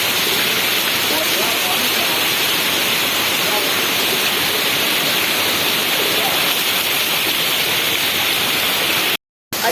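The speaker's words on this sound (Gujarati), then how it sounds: "આજે વરસાદ જો પાછું" Heavy rain pours steadily over a farm field where cotton plants stand in water, a dense, continuous hiss that stays loud and even for nearly ten seconds before cutting out briefly at the end.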